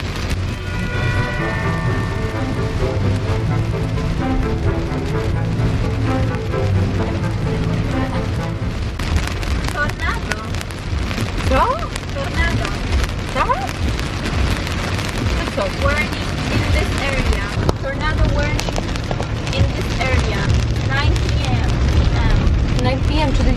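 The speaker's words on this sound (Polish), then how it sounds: "ten deszcz nie przestaje padać i jeszcze jest burza z piorunami" Dense, steady hiss of heavy rain pounding a surface during a Florida thunderstorm with tornado warnings, with low rumbling underneath and voices talking over it at times.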